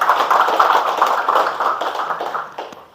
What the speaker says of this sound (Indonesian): Tepuk tangan untuk Permata Qadri Aliyah.